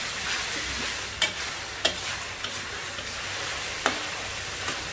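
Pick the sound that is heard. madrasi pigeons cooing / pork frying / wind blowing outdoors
pork frying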